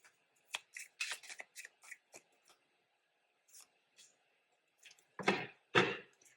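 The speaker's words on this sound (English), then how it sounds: "You see me shuffling," Tarot cards being shuffled by hand, heard as a run of crisp, close riffling bursts with short pauses, ending in two louder, fuller shuffles near the end.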